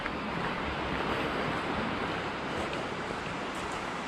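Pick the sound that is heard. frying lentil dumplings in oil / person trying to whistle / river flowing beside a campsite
river flowing beside a campsite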